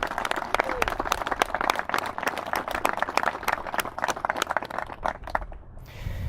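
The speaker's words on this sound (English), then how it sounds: "Let's give them all a big round of applause" Wedding guests at an Oceancliff ceremony break into a round of applause, dense clapping from a nearby crowd that rises, holds steady and then thins out toward the end.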